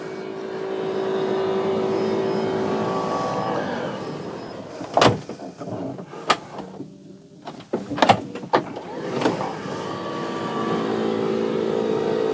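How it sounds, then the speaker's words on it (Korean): A Mercedes-Benz Sprinter 13-seat van's automatic electric side door runs with a steady motor whir, then ends in a series of sharp clunks and latch thumps as it shuts, with no talk over it. "버튼을 가볍게 터치하셔도 이 문은 참 잘 닫힙니다"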